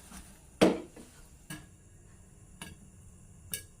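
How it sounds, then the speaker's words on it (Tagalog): Popcorn kernels popping one at a time in hot oil with Star margarine in a pan, four sharp isolated pops spaced about a second apart over quiet sizzle. "Pumuputok na. Puputok na. Yan na. Sunod-sunod na yan."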